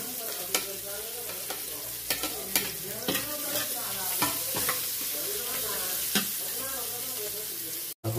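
Onion and garlic sauté in a hot pan for a Bicol-style laing dish, a steady sizzle broken by the scrape and clink of a spoon stirring at regular intervals, close and fairly quiet.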